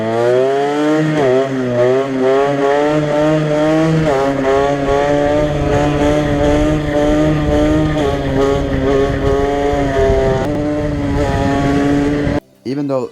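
A modified stunt moped with 1170 gearing roars up close, its loud buzzing engine climbing in pitch as it pulls away, then holding a steady, slightly wavering drone before cutting out briefly near the end.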